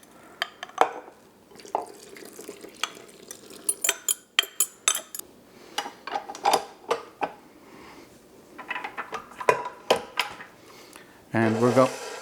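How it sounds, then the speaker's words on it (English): A milk, sugar and yeast mixture stirred into dough, a utensil scraping the sides of a measuring cup: irregular clinks and scrapes of metal on glass, some quick and bunched, with a brief louder rattle at the end. "I'm just stirring it through, scraping all the yeast off the sides of the measuring cup."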